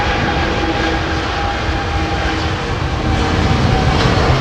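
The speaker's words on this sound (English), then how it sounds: "British Airways A350 1000 from Haneda now arriving" A British Airways Airbus A350-1000 airliner arriving from Haneda roars loudly and continuously overhead, its dense jet engine rumble holding steady and swelling slightly toward the end, with no voices.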